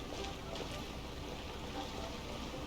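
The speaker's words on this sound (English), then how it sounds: "There's a lot of water flowing through here." Steady broadband rush of a large volume of water flowing past, loud and continuous like a waterfall, with no clear breaks or voices.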